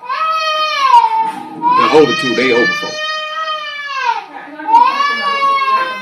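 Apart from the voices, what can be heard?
children crying and hollering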